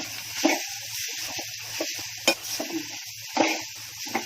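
Dry fruits and coconut roasting in a pan for a Konkani sweet, with quiet intermittent sizzling and a few scraping stirs and light clinks against the pan, close and without speech.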